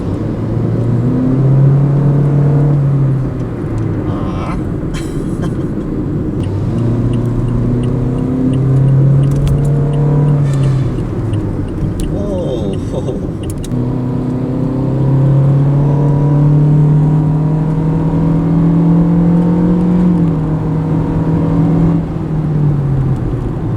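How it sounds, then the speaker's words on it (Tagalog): A Toyota Vios car engine drives and accelerates steadily, its note rising and falling through repeated gear pulls, continuous and fairly loud with road and wind noise underneath. "Alright, driving the Vios."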